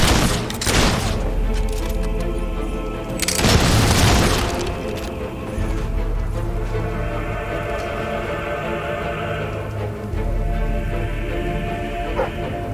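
Gunfire and explosions in a Fable 3 battle, heard as loud booming bursts and a steady barrage of rumbling blasts that continue throughout.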